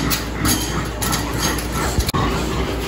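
A small, compact dog whimpers and yips in soft, repeated high whines amid steady outdoor background noise, fairly close.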